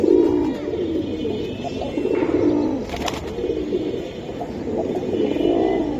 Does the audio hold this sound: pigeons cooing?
yes